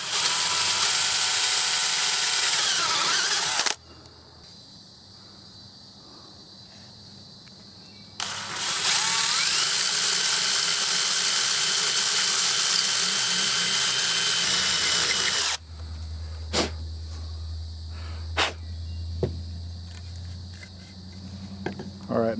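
A power drill whines loudly in two long sustained runs, drilling into a Marlin Model 60 rifle, separated by a pause, followed by quieter clicks and a low hum.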